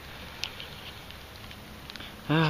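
Rain patters steadily outdoors at a chapel ruins site during metal detecting, a faint continuous hiss with scattered soft drops, before a brief burst of nearby talk at the end.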